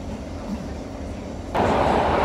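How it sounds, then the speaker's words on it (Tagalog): Singapore MRT subway train running, a steady rumble that swells suddenly into a louder, brighter roar partway through, close and continuous. "Fairness sa MRT nila ang bilis na. Like, maingay nga lang, pero mabilis."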